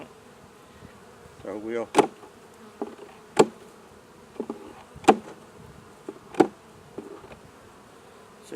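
Bees on a hive frame hum in a continuous low drone, cut by several sharp knocks and taps from handling the frame, with a brief spoken phrase.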